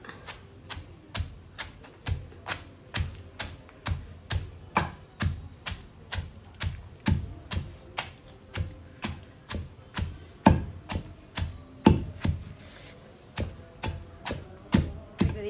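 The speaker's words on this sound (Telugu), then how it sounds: "వేసుకొని పైపు అంతా మెత్తగా దంచుకోవాలి" Roasted brinjal chutney pounded in a stone mortar with a pestle gives steady, evenly spaced thuds, roughly two per second, close and clear with no talking.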